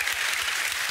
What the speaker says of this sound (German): mach mal Applaus hier, komm, Leute